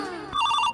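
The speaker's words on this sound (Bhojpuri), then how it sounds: "1 मिनट, तनी परमा के पास फोन आया है" A phone ringtone sounds in a short electronic trilling burst of repeated bright tones, clear and close over a low room hum, cutting off abruptly.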